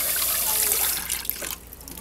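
A tap runs to rinse something off, a close, steady gush of water that thins out and fades after about a second and a half.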